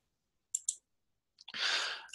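Two quick mouse clicks on a software pause button, crisp and close, followed by a soft breathy exhale with no speech.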